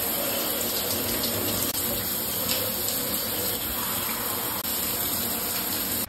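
Shower water running steadily in a home bathroom, a loud continuous hiss of spray falling with no pauses and no voices, ending abruptly.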